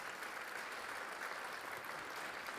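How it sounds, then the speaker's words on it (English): An audience at a public safety awards ceremony claps continuously and evenly, a steady, full wash of applause from many hands throughout with no speech over it. "How about some applause for these folks?"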